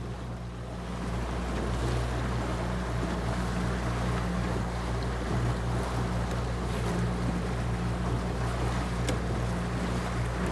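A fishing boat trolls along at about 4.7 knots, its engine a steady, close drone that runs unbroken throughout, with water wash and wind noise over it.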